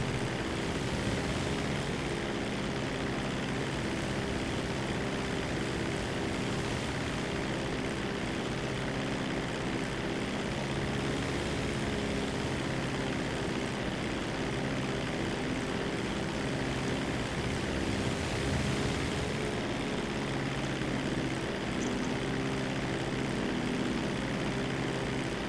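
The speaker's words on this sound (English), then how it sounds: "It's easy for me to drive planes in this one." A propeller airplane flying in GTA 5 gives a continuous loud engine drone with a steady rumble and broad roar throughout, close and unbroken.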